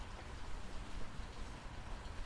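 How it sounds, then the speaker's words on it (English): Steady rain falls outside with an even, constant hiss and no distinct drops standing out, heard alone at a moderate level. "Oh, it's raining outside."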